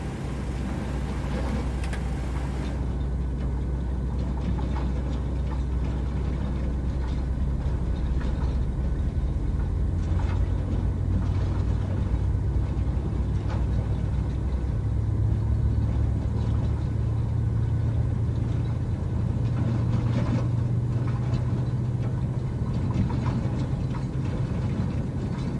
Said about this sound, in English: Alright, now it sounds like we have a good start of engine number